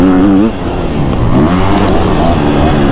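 A KTM 250 SXF 2024 factory edition motocross bike runs hard under load, its engine note rising and falling in steady revs, close and loud throughout with a brief dip near the start.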